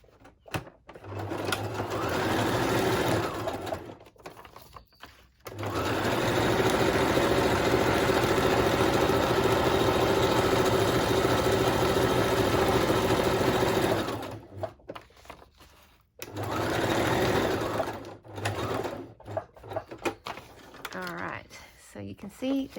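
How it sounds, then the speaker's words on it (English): A sewing machine stitches a pocket page closed in a handmade journal, running in long steady bursts of rapid mechanical whirring and ticking, with short pauses between runs. "I'm just going to take it to my sewing machine"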